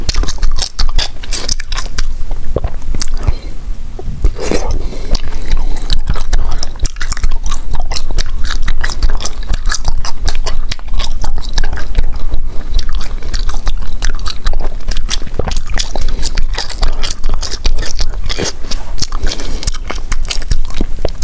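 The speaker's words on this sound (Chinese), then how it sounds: "你嚼个一两分钟没有嚼没味了之后把它给吐出来就行啊，你嚼的时间长了它越嚼越软" Close-up chewing of wax bottle candy, continuous loud squishy, waxy mastication with crackly, sticky clicks and scrapes throughout, with no talk.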